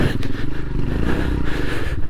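A Royal Enfield Himalayan 462cc motorcycle, tuned to about 40 horsepower, is ridden off-road, its engine a close, steady, rumbling drone with slight rises and dips and some rattling.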